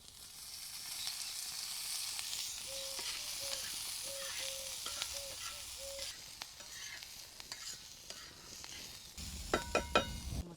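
Oil sizzles in a pan while chicken masala cooks with onions, a steady close hiss and crackle under light stirring scrapes, ending with a few louder clattering knocks; no one talks.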